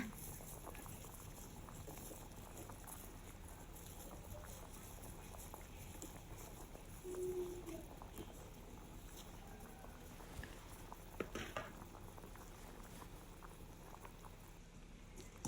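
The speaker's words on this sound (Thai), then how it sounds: "ต้มต่อไปนะคะให้เขาเดือดตุ๋นทิ้งไว้ประมาณ 30 นาทีนะคะ" Chicken broth stews in a pot, rolling at a gentle boil with a faint, continuous bubbling hiss and occasional soft gurgles, quiet and steady throughout, with no voices.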